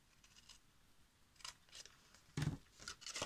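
Scissors snip through paper for a handmade mini album, faint and close, with a few quick crisp cuts growing louder and denser toward the end.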